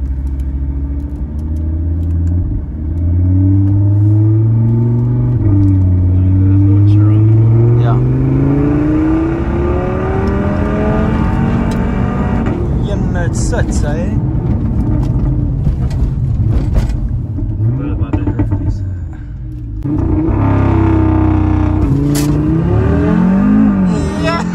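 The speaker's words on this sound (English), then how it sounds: "This Audi in sport, the shifts are very brutal." Tuned Audi RS3 in sport mode accelerating hard, the engine rising and dropping through abrupt, brutal gear shifts, loud and close from inside the car, with people talking over it.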